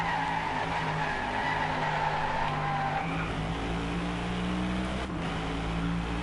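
A car drifts in the Driveclub racing game, its steady engine drone holding under a continuous tire skid and squeal that runs the whole stretch, with a brief dip near the end.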